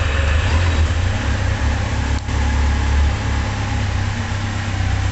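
A 2011 Kawasaki Z750 motorcycle engine runs steadily at idle nearby, a loud continuous low throb with even rhythm, fitted with a sporty exhaust.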